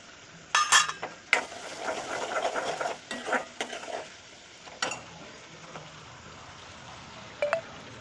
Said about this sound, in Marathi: आता हे सगळं मिश्रण आपल्याला चांगल्या प्रकारे मिक्स करायचं आहे